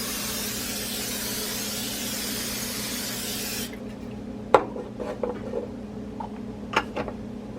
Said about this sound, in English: I'm going to spray a cookie sheet.